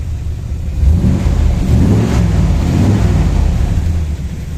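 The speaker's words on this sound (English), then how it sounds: "Show you the side exhaust there and give it a rev up as well if I can." A 1967 Chevrolet C10 short-bed Stepside pickup revs its engine through side exhaust, a loud, close, continuous rumble that swells and holds for several seconds without talk.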